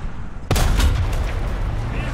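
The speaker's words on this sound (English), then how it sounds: "somebody's dropping a million bombs" Small 50-pound bombs in the War Thunder video game go off with a sudden loud blast about half a second in, and a heavy rumbling roar trails for the rest of the moment.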